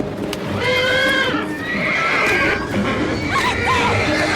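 A horse whinnies loudly and repeatedly in a tense outdoor stable scene, the shrill neighs rising and falling over a steady background with faint hoof clatter and no talk.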